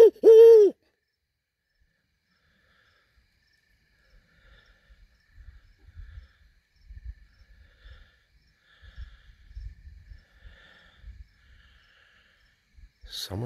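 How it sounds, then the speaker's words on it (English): Owls at night during a full-moon nature walk: a loud hoot at the start, then faint low hoots and rustles scattered through near-silence, with another call at the end. "Oh, there's two owls."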